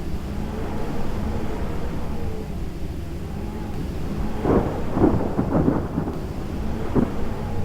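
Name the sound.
heavy rain and strong wind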